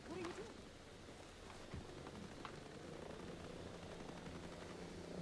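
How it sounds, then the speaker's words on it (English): A distant helicopter in the video game Ghost Recon Breakpoint thrums steadily under a noisy background, with a voice speaking briefly at the start. "Is there any helicopter? I can hear him, but I don't see him."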